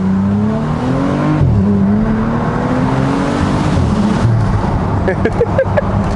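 A left-hand drive car on narrow countryside lanes shifting down to first gear, with a steady close engine drone whose pitch falls at the shifts, then rising revs and brief sharp tire or gravel sounds near the end.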